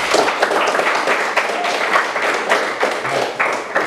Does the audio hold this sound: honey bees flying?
no